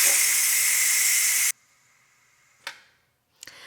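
A pressure cooker vents steam on an immediate quick release after cooking candied sweet potatoes, giving a loud, steady hiss for about a second and a half before cutting off, followed by two brief faint puffs.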